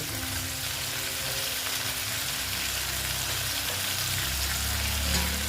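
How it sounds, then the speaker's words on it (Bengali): Chopped tomatoes fry in a pan with onion scapes for a snakehead fish dish, a constant crackling sizzle that stays even and near, with low stirring rumbles underneath. "দিয়ে আবার আমি এটাকে ভালো মতো ভেজে নিচ্ছি"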